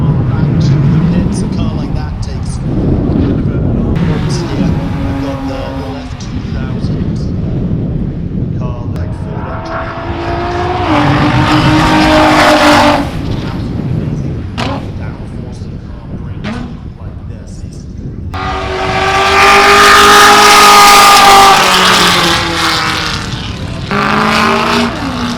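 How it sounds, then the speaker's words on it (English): A Honda K20-engine-swapped Mini Cooper running on a track, its engine note swelling and fading in loud passes with rising revs, heard over steady crowd and ambient noise with talk throughout. "that's because that guy, K20, swapped his Mini Cooper."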